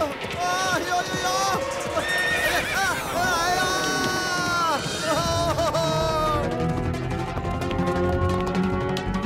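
A horse gives long, wavering whinnies that rise and fall, loud and near, with a busy background of movement and possible hoof sounds running throughout.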